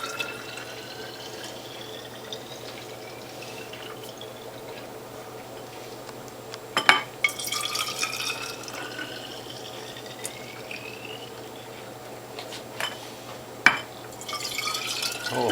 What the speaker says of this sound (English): I'm going to top it off with filtered or distilled water